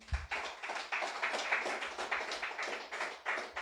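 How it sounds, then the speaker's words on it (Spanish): A church congregation claps in praise during a Spanish-language sermon, a brisk and fairly even run of hand claps that carries on without pause. "Dele fuerte aplauso al Señor"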